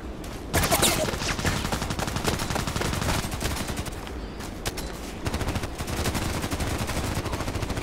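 A Colt IAR rifle fires in Contract Wars in dense, rapid automatic bursts, loud and continuous with brief pauses, mixed with other game noise.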